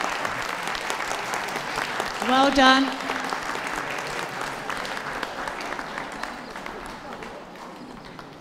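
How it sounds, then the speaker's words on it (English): Audience applause at a championship dog show's pastoral group judging as dogs leave the ring: steady clapping throughout with an announcer talking over it and a brief dog-like yelp in the middle. "Can we give a round of applause to those leaving the ring?"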